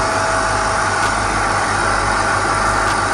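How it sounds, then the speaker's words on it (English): Air compressor pressurizing a home hyperbaric chamber, a steady loud motor drone with a constant hum and no talking. "you keep on the compressor running for the whole 1 hour"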